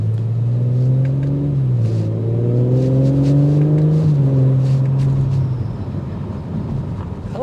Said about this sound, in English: I like the exhaust note that filters in.